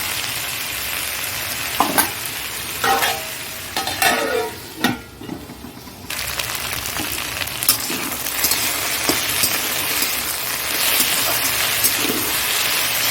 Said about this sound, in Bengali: হালকা একটু চাপাতি দিয়ে একটু ভাজতে হবে আলুটা